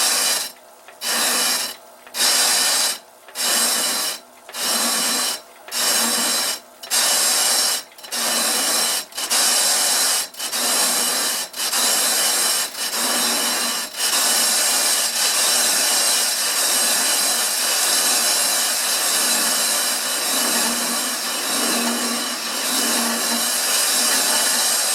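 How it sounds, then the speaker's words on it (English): Vintage cast iron belt pulley turning on a lathe at about 50 RPM, a harsh rasping cut pulsing on and off at first, then merging into one continuous loud scraping drone. "I'm running a lathe at about 50 RPM."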